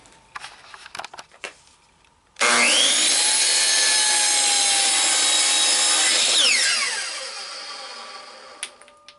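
A power saw cuts walnut into pieces for a laminated woodturning bowl: after a few light handling knocks, the blade bites in with a loud, sustained high whine for about four seconds, then winds down, followed by small clunks.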